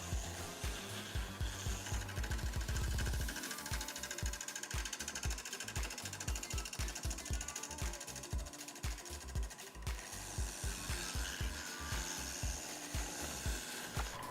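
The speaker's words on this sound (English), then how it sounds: "I use Rockler's full-size square radius carbide turning tool to slowly get the blank round" Carbide square-radius turning tool working a wood bowl blank on a lathe, cutting it round: steady rapid chattering and knocking of intermittent contact as the tool bites the spinning blank, loud and continuous, with no talk.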